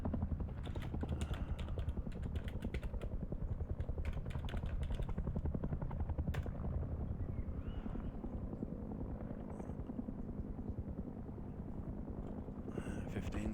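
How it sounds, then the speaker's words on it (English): Helicopter in the survival game Rust, a steady distant rotor drone running throughout under clattery keyboard typing, with people talking over it. "I can hear the chopper in the distance"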